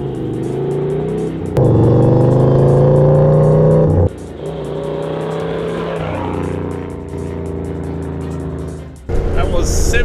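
A 4x4 accelerates hard from a standing start in second gear low range, the engine note climbing loud and steady, dropping at a gear change, then surging again; people talk over it.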